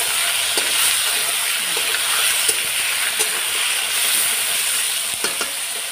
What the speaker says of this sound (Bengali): এবার আলুগুলো একটু লাল লাল করে ভেজে নেব